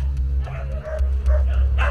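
Several dogs from a pack of eighteen crammed into a small apartment, some kept in boxes, bark and yip in short bursts over a steady low hum, close and fairly loud.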